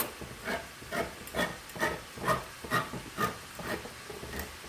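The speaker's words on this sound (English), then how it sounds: "the next thing I'm going to add is my can of diced tomatoes. And I'm putting the liquid in all" Diced tomatoes and their liquid from a can hit a hot pan, giving a steady sizzling hiss that swells and fades in rhythmic pulses, close up, with no voices.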